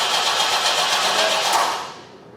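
A 1973 Opel Ascona left abandoned for years cranks over on its starter, a steady churning whir for about two seconds before it fades away without catching.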